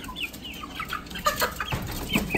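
Eight-week-old chicks in their pen give soft, repeated clucks and short chirps, several birds close by, with light rustling underneath.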